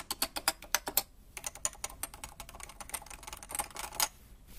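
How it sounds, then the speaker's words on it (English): Rapid keystrokes on a custom Cooler Master Nova Touch TKL, a tenkeyless Topre keyboard on Cherry mounts with double-shot keycaps, come in close, crisp bursts with a short pause partway through. "This is my custom Cooler Master Nova Touch TKL."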